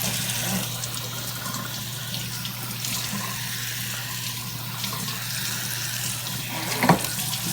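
Tap water runs steadily into a kitchen sink while a cutting board is rinsed under it, a continuous even hiss with a small knock near the end and no talking.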